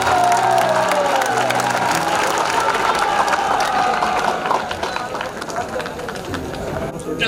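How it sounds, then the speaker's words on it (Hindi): An audience applauding at a felicitation ceremony, dense loud clapping mixed with cheering and crowd noise and a sustained tone over it, easing somewhat toward the end. "समस्त को अनुरोध करी जोरदार करताली"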